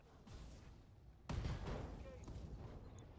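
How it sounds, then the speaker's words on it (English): An LRM ammunition explosion in the Battletech video game bursts out suddenly partway through as a sharp booming blast, followed by a rumbling tail of smaller crackling detonations over a low background. "Got an LRM ammo explosion."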